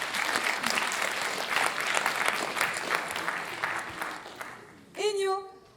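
Audience at an award ceremony claps in a steady, fairly loud round of applause for about five seconds, then it stops and a voice starts talking.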